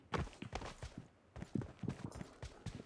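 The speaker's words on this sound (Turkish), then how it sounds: "Bir, bir ayak sesi alıyorum şu anda." Footsteps thudding in PUBG Mobile, a string of close, uneven steps with a short pause in the middle, played on an iPad Pro during a match.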